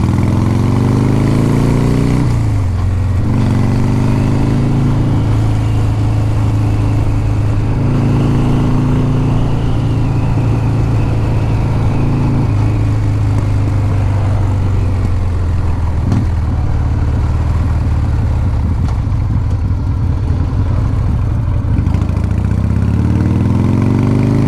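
A 1982 Harley-Davidson FXR Shovelhead motorcycle with five-speed gearbox idles loud and close, its low, lumpy engine note steady throughout with a few brief blips of throttle and no talk over it.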